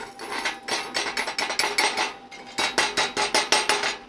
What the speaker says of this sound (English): so nice and gently with the chipping hammer